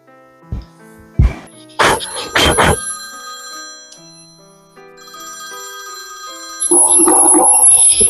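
A telephone rings during a call after a few scattered knocks and clatters, the ringtone coming in as a loud, sustained electronic trill near the end.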